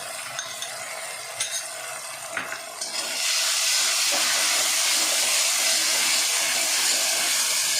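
A sauce mixture sautés in a pan with some prawn fritters being prepared, quiet scraping and stirring at first, then a louder, steady steamy hiss that swells and holds to the end.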